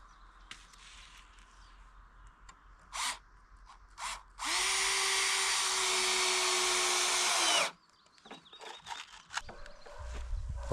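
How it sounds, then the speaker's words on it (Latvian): A power screwdriver whirs in one sustained three-second burst, driving a screw into a wooden bed deck inside a Fiat being turned into a minicamper, with short bursts and clatter before and after in a quiet space. "Rikardo skrūvē gultas klāja"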